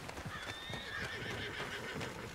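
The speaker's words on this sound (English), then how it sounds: "This goddamn horse." A horse in Red Dead Redemption 2 gives a clear neigh while its hooves clop steadily beneath, close and moderately loud with no talk.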